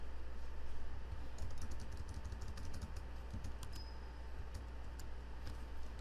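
Keys clatter quickly on a computer keyboard as a Cisco configuration command is entered, a quiet, close, irregular run of taps over a faint steady hum.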